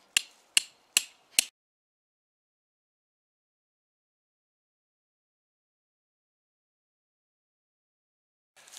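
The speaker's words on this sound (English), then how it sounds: "And obviously a hammer. And just drive it down." A hammer drives a steel trap stake into the ground at a predator dirthole set: four sharp metallic blows in quick succession, close and loud, then a long silence.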